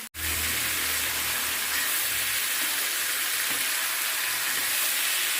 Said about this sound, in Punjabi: ਹੁਣ ਆਪਾਂ ਇਹਦੇ ਅੰਦਰ ਗੋਭੀ ਐਡ ਕਰ ਦਿੰਦੇ ਆ ਇਹਨੂੰ ਅੱਛੀ ਤਰ੍ਹਾਂ ਮਿਕਸ ਕਰਦੇ ਆ